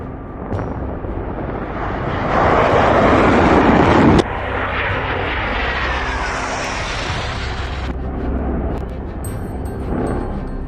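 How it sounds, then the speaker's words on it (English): A Dassault Mirage 2000 fighter jet roars loudly and steadily, building to a harsh peak before cutting to a lower sustained engine rush that fades and then rises again. "Here is the flagship fighter jet of France, Mirage 2000"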